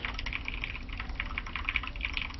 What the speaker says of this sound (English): I can listen to those keys clicking. I can hear them. Mechanical keyboard.